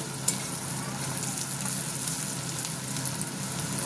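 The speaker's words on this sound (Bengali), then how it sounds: "এই যে পেঁয়াজটা ভাজা ভাজা হচ্ছে" Onion fries in a mix of ghee and white oil, giving a continuous, even sizzle up close with an occasional sharp pop, and no one speaks over it.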